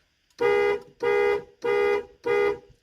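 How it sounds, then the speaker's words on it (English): A 1987–1991 Ford F-150/F-250/Bronco truck horn honks four times in an even rhythm from a keyless entry panic alarm, each blast about half a second long, loud and close with short gaps between. "Flashes the dome light, parking lights, honks the horn."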